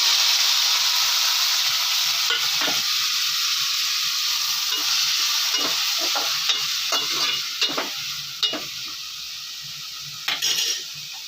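Mustard seeds, onion, tomato, green chili and curry leaves fry in oil in a kadai, a continuous close sizzle broken by spoon scrapes and clinks that grow sharper and more frequent toward the end.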